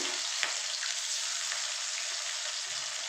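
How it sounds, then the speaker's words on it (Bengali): Small mourala fish fry in oil in a pan, giving a steady, dense sizzle that stays even throughout, with faint stirring clicks underneath. "এইভাবে আমি একটু ভেজে নেব একবারই হয়ে যাবে বেশি মাছ নেই অল্পই মাছ আছে খেতেও বেশ কড়কড়া লাগবে"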